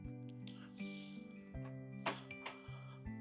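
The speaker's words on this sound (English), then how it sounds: "My cat is going in and out using the little cat door here" A small cat door flaps as a cat goes in and out between rooms: several sharp clacks and clinks at uneven intervals over a steady background of sustained tones.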